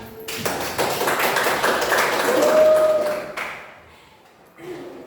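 A class of students claps hands together: dense, sustained applause-like patter lasts for about three seconds and then tapers away, with a brief voice near the end.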